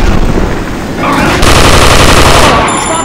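Rapid, very loud automatic gunfire from a shooter video game pounds in dense bursts, with a brief dip in the middle before the firing surges again.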